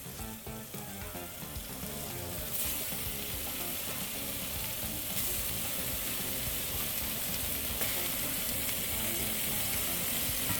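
Vegetables for a homemade soup dropped into a very hot pan to brown, giving a loud, steady crackling sizzle that flares up after a couple of seconds and holds constant, with no talking.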